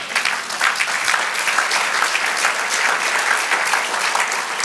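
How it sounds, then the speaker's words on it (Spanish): A church congregation bursts into sustained applause, a dense, even wash of many hands clapping that fills the room for several seconds without pause. "Den un aplauso al Señor."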